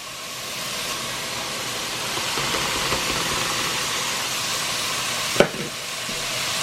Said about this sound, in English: Give it a nice stir. And I'm going to throw in the carrots.